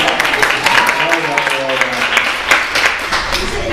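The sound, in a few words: audience applause for a team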